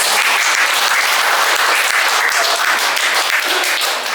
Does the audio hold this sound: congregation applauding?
yes